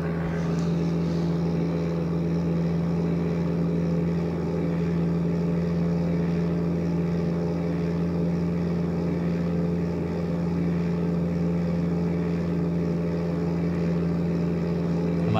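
A flight simulator game's aircraft engine drones at a constant steady pitch for the whole stretch, loud and unbroken, with a faint rushing wind layer and no talk.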